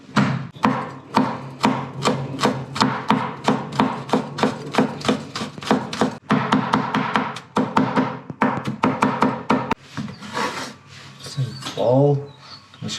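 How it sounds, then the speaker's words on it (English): Knife chopping onions and garlic on a cutting board for a char siu pork bun filling, a steady run of sharp, close taps and thunks with brief pauses, ending in softer scraping. "So here I got 2 onions and some garlic, so let's just chop these up first."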